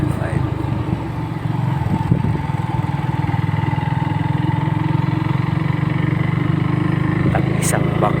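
A Kawasaki W175 motorcycle engine drones steadily on a road trip, a close, even low rumble with a fast pulsing beat running continuously beneath a rider's voice.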